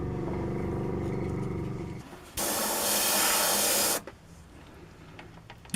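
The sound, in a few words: airbrush blowing air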